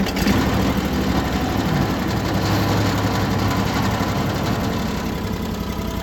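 A farm tractor engine running close by, a steady loud mechanical drone with even knocking pulses that continues unbroken and fades slightly at the end.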